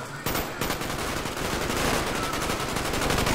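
Dense, continuous automatic gunfire fills a Call of Duty Black Ops multiplayer match, loud and steady throughout with hardly any voice over it.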